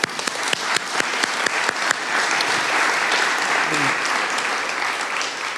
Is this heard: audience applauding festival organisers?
yes